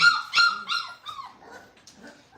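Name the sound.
Boerboel puppy barking and whimpering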